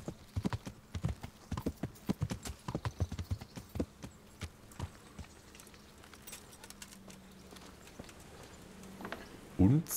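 Horse hooves clip-clop in a quick, irregular rhythm while riding in the medieval game Kingdom Come: Deliverance, fairly close and distinct. The hoofbeats then thin out into quieter ambience, with a sharp louder burst at the very end.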